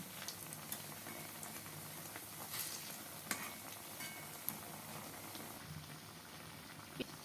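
Semolina and gram flour snack pieces sizzle steadily in hot oil as they fry, a dense continuous crackle with occasional sharper pops, close and fairly quiet, with no voices.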